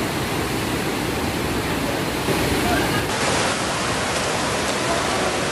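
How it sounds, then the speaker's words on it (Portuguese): Floodwater torrent from heavy rain in Belo Horizonte rushing through a city street as storm drains overflow, a loud, steady broadband roar of churning water, with a voice talking faintly beneath it. "Olha para vocês verem a força dessa água."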